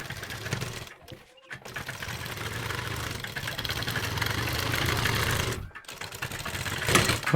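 An electric sewing machine stitching fabric for an umbrella-style palazzo, its rapid mechanical whirr running continuously with two short pauses, close and fairly loud.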